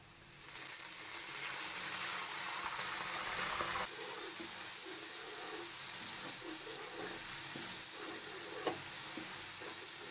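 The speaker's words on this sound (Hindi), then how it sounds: "लहसुन डाला है थोड़े पानी के साथ।" Crushed garlic frying with a splash of water in a pan while cooking beef nihari, a steady sizzle and hiss throughout with faint stirring scrapes, close and continuous.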